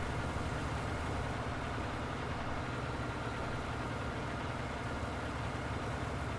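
A tractor engine in the video game Farming Simulator 19 runs steadily, a constant low, rumbling drone at even loudness with no talk over it.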